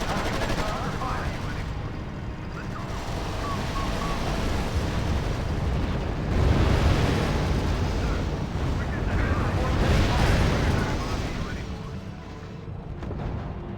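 Battlefield din in the strategy game R.U.S.E., rumbling artillery blasts and explosions with crackling gunfire rolling continuously at high volume, swelling and fading in waves.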